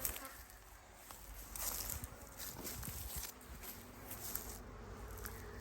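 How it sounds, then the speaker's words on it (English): Bees buzz around a trap outdoors, a faint, uneven drone of wings rising and falling nearby, with light rustling and patter in the background. "See how the bees all come forward."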